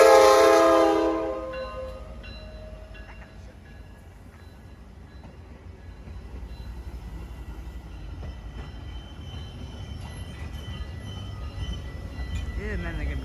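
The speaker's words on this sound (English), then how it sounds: "guess that's a weird train horn." A train horn sounds loud and close in a brief blast at the start, then fades into a low rumbling rail background with faint distant noise.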